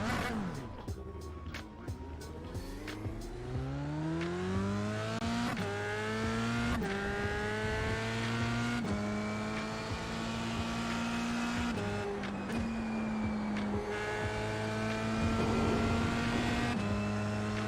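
An F3 race car in iRacing at the Hungaroring weaves to warm its tyres, engine revving up and down through repeated rising gear sweeps, loud and close throughout.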